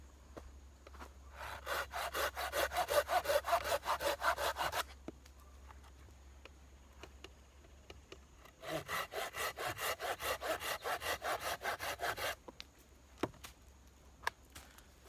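A folding saw cuts through 1.5 inch green oak in two long bouts of rapid, rhythmic rasping strokes, close and clear, separated by a pause with a few light knocks and no talking.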